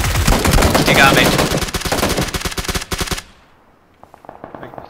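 Rapid bursts of loud automatic gunfire ring out in a video game battle, then cut off abruptly to a quieter stretch with scattered distant shots and faint clicks.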